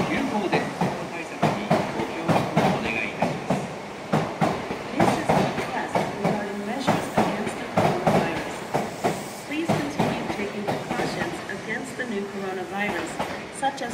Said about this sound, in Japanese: 3番乗り場の電車は18時発河内長野行き急行です。